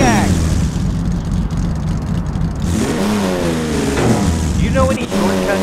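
A limousine's engine drives steadily in a driving game, a loud continuous mid-pitched drone with shifting tone as it revs, while voices talk over it.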